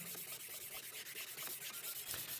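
Sandpaper rubs back and forth across a handmade sword blade in steady, rhythmic strokes, a soft close-up scraping with no voices over it.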